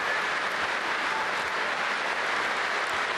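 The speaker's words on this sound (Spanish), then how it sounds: "Se aplaude en pie" A large audience gives a standing ovation for Putin's Crimea speech, steady thunderous clapping that fills the whole stretch without pause.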